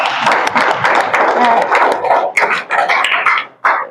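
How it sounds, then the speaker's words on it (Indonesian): A classroom of students applauds during a coding and artificial intelligence lesson, with loud, dense clapping and some crowd noise that thins out and stops briefly near the end before one last burst. "Oke, tepuk tangan dulu."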